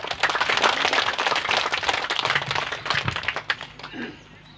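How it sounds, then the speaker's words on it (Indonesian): An audience at a food workshop claps in a dense, sustained burst of applause that thins out and fades near the end. "Ya, mari kita berikan aplaus."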